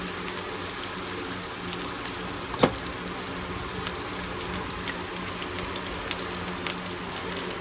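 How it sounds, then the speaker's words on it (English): Food frying steadily in a pan, a constant close sizzle with a faint brief clatter partway through and no talking, while cooking a brisket enchilada casserole. "Then we're just going to put it in here and fry it."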